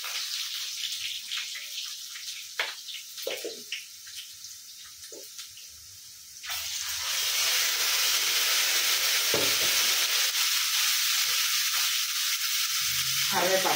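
Dried red chillies dropped into hot oil for a homemade tomato chutney, a few quiet stirring clinks at first, then a loud, steady close sizzle that swells up and keeps going.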